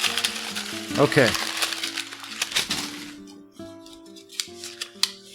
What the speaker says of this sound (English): Hear that? The sound of paper.